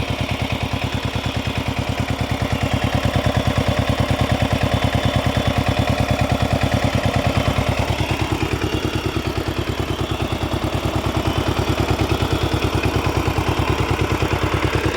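A Kamco diesel engine runs a water pump, hammering out a fast, even, thumping clatter that holds steady and close for the whole stretch.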